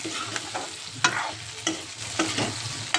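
Onions fry in a pan over medium heat with a continuous soft sizzle, broken by several sharp stirring scrapes of a spoon at irregular intervals, close up and with no voices.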